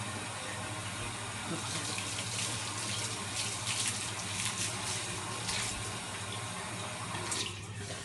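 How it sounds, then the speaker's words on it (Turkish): Steady running water from a tap, a continuous broadband splashing hiss that stays loud and even throughout, with no talking. "Şu suyu kapatayım."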